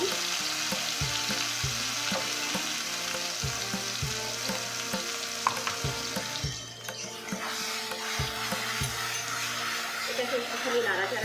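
Spiced violet cauliflower curry fries in oil in a pan while being stirred, a soft sizzle with scraping and clinking from the spoon, a low background hum, and brief bursts of louder frying near the end.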